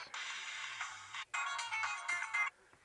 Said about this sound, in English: I can change the phone ringtone, the notification ringtone.